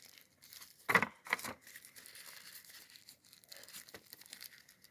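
A thick plastic bag from a boxed pair of XO-F90T wireless earbuds crinkled during unboxing, a louder crackle early on and then faint intermittent rustling close by.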